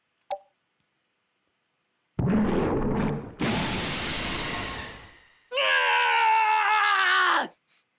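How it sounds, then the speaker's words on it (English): Leader unit in the Brigandine strategy video game screams as a magic blast goes off, a loud burst of noisy impact followed by a long high, strained cry, after a brief click at the start. "Don't know why your leader always screams when that blast goes off"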